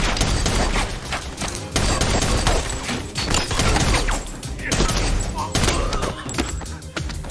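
Gunfire from an action film shootout, with dense rapid volleys and bursts of shots one after another, loud and continuous, with brief lulls between barrages.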